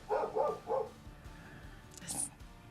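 A dog next door barks three times in quick succession, somewhat distant, heard through open doors and windows, followed by quieter room noise and a faint high yelp.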